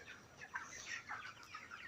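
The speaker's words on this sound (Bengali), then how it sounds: "এই মুরগিগুলোকে আমি 32 দিন ধরে পালন করতেছি" Broiler chickens raised for about a month on a farm, soft scattered clucks and chattering calls from several birds at a distance, faint and continuous.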